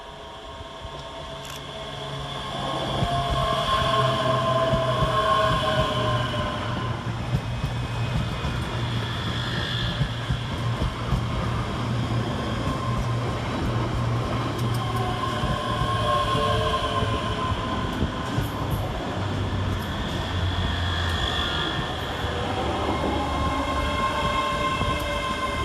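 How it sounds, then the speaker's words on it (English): Two coupled ScotRail class 385 electric units arrive at Polmont station on the Edinburgh to Glasgow line, a steady loud rumble with rising and falling whine as they draw in close and slow, no voices. "Arriving next into the station is 385118 and 385123, working the 1439 Scotrail service from Edinburgh Waverley to Glasgow Queen Street"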